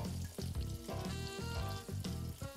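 Cumin seeds, chopped green chillies and sliced onions sizzle loudly in hot oil in a pan, a steady close crackle with pulses of stirring, no talk.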